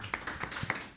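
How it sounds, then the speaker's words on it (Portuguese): Restrained applause at the opening of a Brazilian football talk show, several quick handclaps in short bursts rather than a full ovation, close and fairly loud against a quiet room. "Palmas contidas, palmas"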